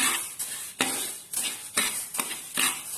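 Masoor and chana dal being stirred as they roast dry in a pan, with a steady rhythm of scraping, rattling strokes of the spoon against the metal, close and fairly loud.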